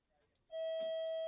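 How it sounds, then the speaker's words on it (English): A school bell in a classroom suddenly starts ringing, a loud, steady electronic tone that cuts in after a quiet moment and holds to the end. "Oh, I guess the bell rang."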